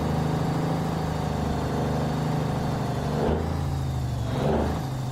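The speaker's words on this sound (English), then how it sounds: "We're using the Creech Bomb engine sound pack" Kenworth Legacy truck engine in American Truck Simulator using the Creech Bomb engine sound pack, a steady close rumbling drone that shifts pitch a couple of times as the rig changes speed, with no talking.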